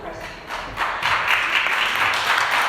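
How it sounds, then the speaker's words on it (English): An audience applauds after a presentation, with scattered claps building into a steady, fairly close round of clapping that lasts a few seconds. "I'd like anybody who cared to applaud this young woman for the unbelievable presentation"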